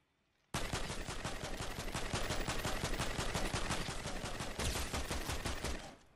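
A new weapon in Fortnite fires continuously for more than five seconds, a rapid, steady stream of loud, close shots that starts abruptly and carries no talk over it.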